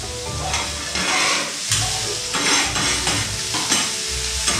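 Red and green peppers sizzling and being stirred in a hot pan for Japanese fried rice, a steady loud frying hiss broken by repeated scraping stirs.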